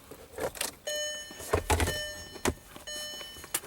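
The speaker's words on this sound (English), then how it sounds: "I guess I need to turn the key on" A car key is turned on in the ignition, followed by clicks, a brief rising electric whine and chimes from the car's systems, with sharp knocks of handling inside the cabin.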